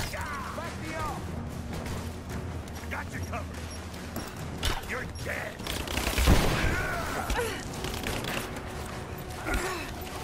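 Rapid gunfire and combat clatter in the action game Rise of the Tomb Raider, repeated shots with a heavier crash near the middle, mixed under voices talking throughout.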